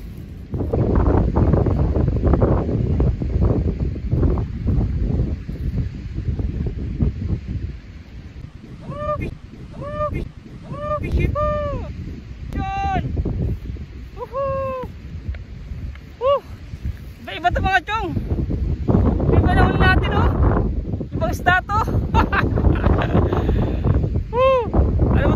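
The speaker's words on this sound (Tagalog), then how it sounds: "sobrang lakas ng hangin" Strong wind roars and buffets steadily across the whole stretch, with a few whistling bird-like calls and faint voices breaking through now and then.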